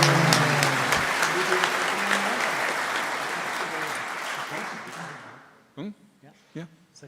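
Audience applause at a live Celtic music concert for a bassist, a dense sustained wash of clapping that fades out by about five seconds, followed by a few brief spoken words.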